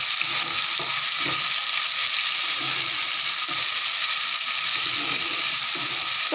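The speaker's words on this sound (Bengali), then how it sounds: "মশলাটা ভাজা হোক আর একটু" Spice paste for a potato and tangra fish curry fries in a pan, a steady close hiss and sizzle that runs unbroken throughout, with faint low stirring knocks underneath.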